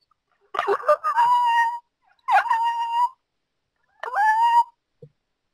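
A dog in a video game lets out three drawn-out, howling barks, separated by short pauses, fairly close and clear.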